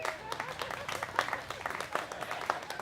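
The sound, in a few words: comedy audience applause from married couples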